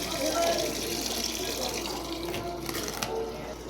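Steady rushing of water as a Fujidenzo automatic washing machine fills, continuous and moderately close, with faint background voices underneath.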